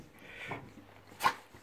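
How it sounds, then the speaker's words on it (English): A French bulldog makes a short bark and faint whimpering, one sharp yelp standing out near the end over quiet indoor background near an aquarium. "Here's my little dog Spud."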